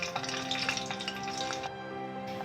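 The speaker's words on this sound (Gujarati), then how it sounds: "રાય અને જીરું આપણા સરસ રીતે સતરાઈ ગયા છે" Hot oil sizzles with quick little crackles and pops as mustard and cumin seeds splutter, close and continuous, with a faint tonal hum behind it.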